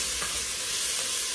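Garlic and rosemary sizzle steadily in a Dutch oven for a pork roast while being stirred, a close, continuous frying hiss with faint scrapes.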